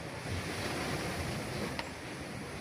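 Strong wind buffets the microphone and sea waves surge continuously, producing a dense, loud roar with no pauses.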